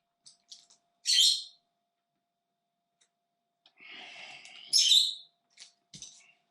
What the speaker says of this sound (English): You can probably hear in the background the bird going absolutely bonkers